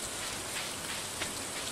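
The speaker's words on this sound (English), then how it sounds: "But man, I enjoy the rain." Dense, even hiss of falling rain in the video game Stardew Valley, continuous and fairly close with no voices.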